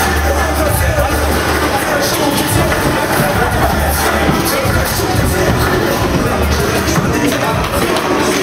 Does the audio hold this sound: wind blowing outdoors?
no